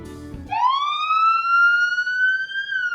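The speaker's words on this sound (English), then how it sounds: "I finally heard a police siren coming from behind us." A police siren in the Higurashi video game wails steadily after a brief burst of noise, holding a loud rising tone with no talk over it.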